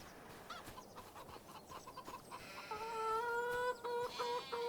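Farm chickens cluck and call in a video game barnyard, soft and somewhat distant at first, then growing into a louder, drawn-out crowing-like call near the end.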